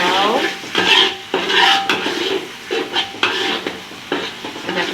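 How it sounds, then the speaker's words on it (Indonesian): Fried rice vermicelli being stirred in a pan, close and fairly loud, with repeated scraping strokes of a spatula against metal and light sizzling between them in an uneven rhythm. "Kita kacau."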